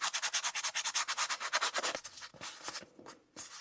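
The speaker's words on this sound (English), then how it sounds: "use a bit of sanding paper just to sand the edges" Sandpaper rubs along the edges of a small handmade journal in quick, rhythmic back-and-forth strokes, close and distinct. The strokes turn slower and more scattered toward the end.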